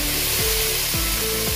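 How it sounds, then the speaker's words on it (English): Cubed beef hits a preheated pan with a loud, dense, hissing sizzle that holds steady throughout, while a voice talks over it. "I start to preheat the pan, and I'm going to add the beef"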